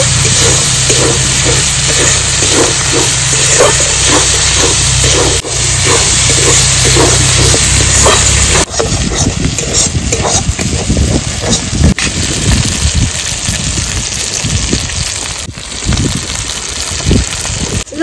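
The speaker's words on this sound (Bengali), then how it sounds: "মশলাটা সুন্দর করে কষিয়ে নেব।" Spices fry in hot oil for a magur catfish curry, a loud, steady sizzle and hiss that continues throughout with stirring and scraping noises in the later part.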